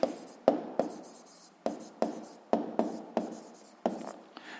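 Pen writing on paper while working a school physics exercise, a quiet run of scratchy strokes with about nine sharp pen-down taps at an uneven pace, close and alone.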